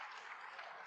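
A snooker crowd at a Shanghai Masters final claps in a short, even burst of applause, soft and distant.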